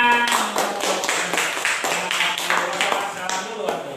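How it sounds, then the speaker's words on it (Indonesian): Classroom clapping in an Indonesian school lesson, a series of sharp, fairly loud claps in rough rhythm mixed with children's voices and chatter. "tepuk tangan"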